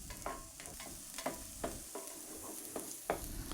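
Pieces of food brown in a pan ahead of chicken for fettuccine Alfredo, with a soft, quiet sizzle and regular light clicks and scrapes of stirring.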